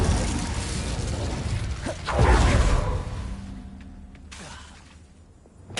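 Glacius and Incendio spells cast in Hogwarts Legacy, heard as layered whooshes, a bright shattering burst and mechanical clatter, loudest around the middle and fading toward the end.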